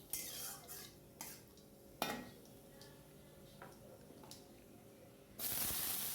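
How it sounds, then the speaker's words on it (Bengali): Nigella seeds temper in a little hot oil in a pan, giving sparse, quiet pops and ticks over a low hiss before a louder burst of sizzling at the end. "অল্প করে তেল দিলাম আর কালো জিরে ফোড়ন দিয়ে দিলাম"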